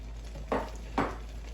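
Two quick stirs of diced tomatoes into chicken cacciatore in a pan, each a short wet scraping swish about half a second apart over a quiet background hum.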